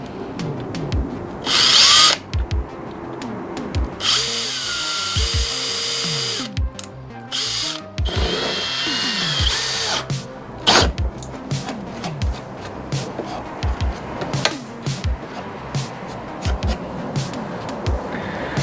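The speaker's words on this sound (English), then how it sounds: "Take the drill." A power drill drives screws to fix brackets onto a wooden shelf board, giving several loud whirring bursts of varying length separated by short pauses and handling clatter.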